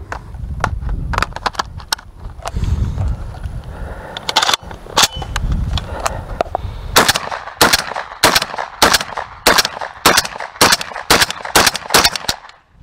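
A JTS MK12 rifle on gas setting two fires ten rounds of Monarch 1550 ammunition, sharp loud reports coming in a steady semi-auto rhythm, sparse at first and then quicker and evenly spaced, with no talking.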